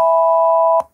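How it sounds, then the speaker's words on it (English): A major chord rings from an Arduino penny chord organ as a steady, buzzy electronic tone of stacked pitches, held for under a second before ending abruptly with a click. "Back to major, which sounds like"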